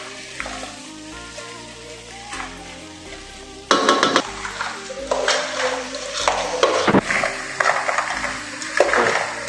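Crab masala being stirred in a pan, with a soft sizzle of frying and scraping, clattering knocks of a spoon against metal that grow louder and busier partway through, no voices.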